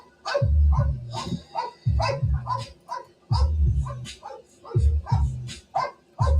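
A police K-9 dog barks loudly and repeatedly in quick clusters of deep, harsh barks, with short gaps between bursts.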